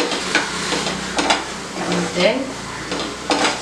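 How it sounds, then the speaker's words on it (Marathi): A tomato, onion and salt mixture is stirred in a pan over a low flame, a steady scraping and sizzling with soft clinks of the utensil against the pan throughout. "On low flame mixed it. चांगलं मिसळून घ्या."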